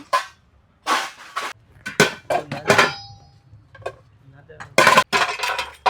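Old steel and aluminium household pots clang and clatter while being handled and weighed, giving a series of sharp metallic knocks and rattles at irregular intervals, close by, with brief quiet gaps between them.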